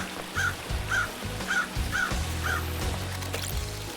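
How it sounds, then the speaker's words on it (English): A crow in the video game Paradise Killer caws five times in an evenly spaced row, sharp and distinct over a low, pulsing ambient music bed. "That crow noise is very distinctive."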